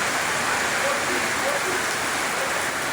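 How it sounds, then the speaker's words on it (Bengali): Heavy rain pours steadily over Dhaka during a days-long storm, a dense unbroken roar of water that is loud and close, with no gaps. "বৃষ্টি, প্রচুর বৃষ্টি ঢাকা।"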